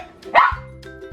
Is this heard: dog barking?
yes